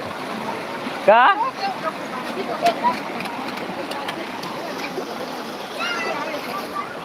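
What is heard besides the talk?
splashing in water at a waterfall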